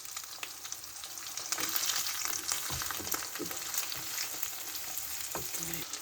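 Egg frying in a pan, a continuous close crackling sizzle with scattered pops and a few soft scraping knocks, heard alone without talk.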